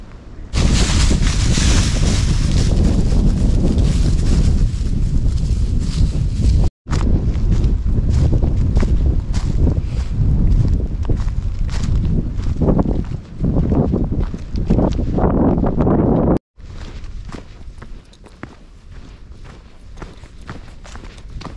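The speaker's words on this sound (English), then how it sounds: "I was hoping that this spot would be more out of the wind, but it's actually kind of in a tunnel" Strong wind buffets the microphone at a tunnel-like campsite on the Appalachian Trail near power lines, giving loud, continuous roaring gusts with two brief dropouts, and lighter rustling toward the end.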